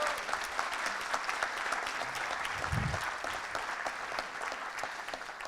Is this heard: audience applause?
yes